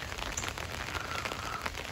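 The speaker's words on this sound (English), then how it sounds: "So it's still raining, but I'm coming out to try to show you." Rain falls outside as a steady, dense hiss of drops hitting surfaces, continuous and moderately close throughout.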